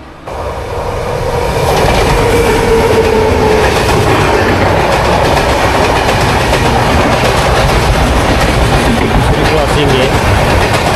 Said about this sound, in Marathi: क्रॉसिंगची ट्रेन आली.